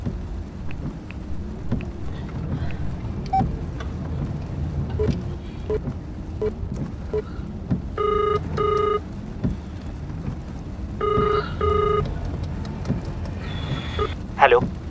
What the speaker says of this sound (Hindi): मैं अभी राहुल को फोन करती हूँ।